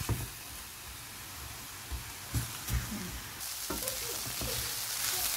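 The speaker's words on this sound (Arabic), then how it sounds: "j'ai rajouté l'ail pour que ça cuise en même temps que les oignons" Onions and garlic, with red pepper, sizzle and crackle in a frying pan, a steady close frying hiss with occasional stirring clatters and scrapes.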